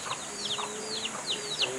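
A young chick peeps in a series of rapid, high, falling chirps, soft and close, repeating every few tenths of a second with no talking over it.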